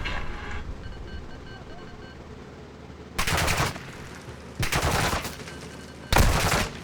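Video game gunfire: three loud bursts of automatic weapon fire, each lasting under a second, rising sharply out of a steady background rumble of wind and engine-like noise.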